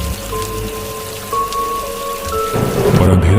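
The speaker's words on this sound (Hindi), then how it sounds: "और बारिश शुरू हो गई" Heavy rain hisses steadily through a storm while low thunder rumbles underneath and swells louder in the final second, with no voices.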